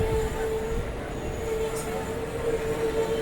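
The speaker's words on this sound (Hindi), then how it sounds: "अपनी ट्रेन अभी मनमाड़ क्रॉस कर रही है।" A train runs through Manmad station on a Mumbai to Balia journey, with a steady, continuous rumble of wheels and carriages that stays loud and even throughout, with a faint high squeal at moments.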